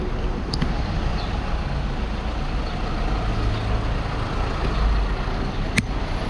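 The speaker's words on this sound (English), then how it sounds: "There's like a massive traffic jam everywhere." Low, steady rumble of a city traffic jam in Istanbul with idling trucks and buses, continuous and close, with a brief hiss like an air brake near the end.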